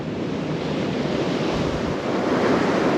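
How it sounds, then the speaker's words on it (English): Strong wind roars and buffets the microphone in a steady, loud rush, with surf washing underneath, no voices. "it's really windy today"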